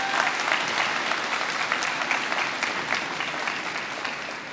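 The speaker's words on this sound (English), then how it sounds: "Sarah and for Ken from Anacotti Farm Shop, let's give them a round of applause." Audience at a graduation ceremony gives a sustained round of dense applause, steady and fairly loud throughout, with no speech over it.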